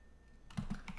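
A few quick, faint keystrokes on a computer keyboard while entering a command-line query, clustered in a short burst near the end.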